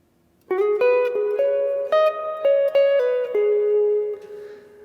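Clean electric guitar plays a pickup phrase leading into a solo of 9/16/90, a string of sustained single notes with bends and steady phrasing, close with no talk.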